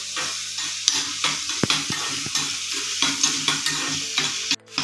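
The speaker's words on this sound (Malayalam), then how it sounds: "ചെറിയുള്ളി നന്നായി ചൂടാക്കി, നല്ല ബ്രൗൺ കളർ ആവണമെന്നൊന്നുമില്ല, ജസ്റ്റ് ഒന്നിങ്ങനെ ട്രാൻസ്പെറൻ്റ് ആയാൽ മതി" Chopped shallots frying in a pan, a steady close sizzle with repeated scraping stirs of a utensil at a loose rhythm, no voices over it.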